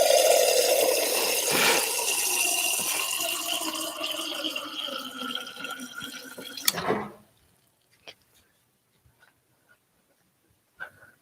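Water pouring in a continuous stream, likely from a tap into a drinking glass, runs loudly for about seven seconds then stops abruptly, followed by near silence with a few faint clicks and knocks.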